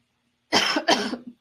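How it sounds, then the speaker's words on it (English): A loud, close throat clearing in two harsh bursts, heard alone against silence. "Excuse me, while I'm clearing my throat."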